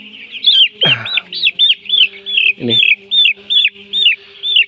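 A flock of chickens peeps and chirps steadily in a rapid, repeated rhythm, close and clear. Two short, deeper squawks break in, and a faint steady hum runs underneath. A voice says one brief word.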